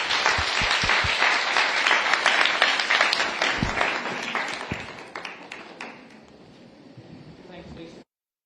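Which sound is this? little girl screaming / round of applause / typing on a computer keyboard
round of applause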